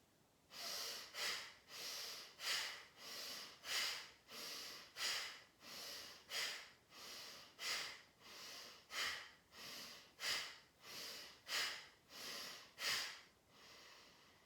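Bhastrika pranayama bellows breathing: a steady series of about sixteen forceful, rhythmic breath bursts through the nose, each sharp exhalation close and clear, with no talking.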